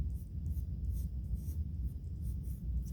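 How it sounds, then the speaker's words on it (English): A pencil scratches across paper in short repeated strokes, close and steady, with a soft rhythmic rasp and no talking. "you essentially are ready to trace over your drawing with some sort of B pencil"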